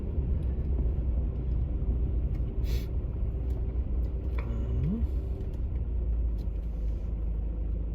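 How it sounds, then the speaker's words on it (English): An old Lada drives along a street in Lviv, Ukraine, heard as a steady, loud low engine rumble with general traffic noise throughout and a brief higher whine midway. No voices. "check out the old Lada as well"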